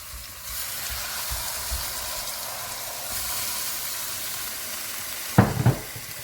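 Minced meat frying in a pan gives a soft, continuous sizzle with low bubbling, broken near the end by a couple of louder clattering stirs.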